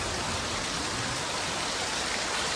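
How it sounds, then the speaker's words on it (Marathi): Heavy rain pours down in a village as a dense, unbroken wash of hiss and patter, loud and even throughout the short stretch, with no voices. "आणि आता पाऊस भरपूर पडतोय तर तुम्हाला दाखवतो।"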